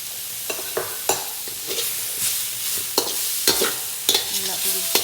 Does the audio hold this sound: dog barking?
no